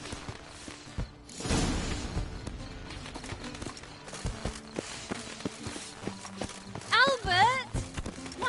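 Horse hooves clip-clopping in The Witcher 3 video game, a steady walking rhythm of hoofbeats heard under spoken dialogue, with a brief whinny-like sound near the end.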